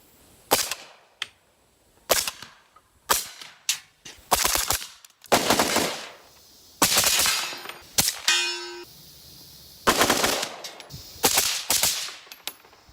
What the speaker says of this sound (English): I'm going to test it out with several calibers, supersonic and subsonic.